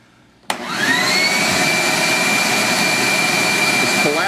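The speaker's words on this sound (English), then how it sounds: "It's collapsing the bucket because the suction right now is just going into the box." A homemade bee vacuum starts up abruptly and then roars with a steady, loud suction whine. Its suction is pulling air through the box of the lid assembly and collapsing the bucket. A voice is briefly heard near the end.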